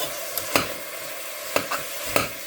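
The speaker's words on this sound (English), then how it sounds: "The minute that you hear the sizzling, like you can hear in the video" A pan hisses softly with a steady sizzle, broken by a few sharp clinks and scrapes of a utensil against it.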